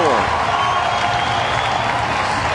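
Loud, dense crowd roar with applause and cheering fills a baseball stadium at a Pirates game against Washington after a run scores late, a steady wash of noise without breaks.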